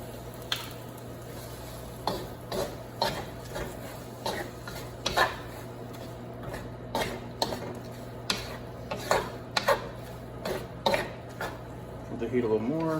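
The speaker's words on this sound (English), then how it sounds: "slowly add your shrimp to the sauce mixture" Shrimp tumbling into a sesame sauce mixture in a pan and being stirred, with repeated clinks and scrapes of a utensil against the pan over a faint low sizzle and a steady background hum.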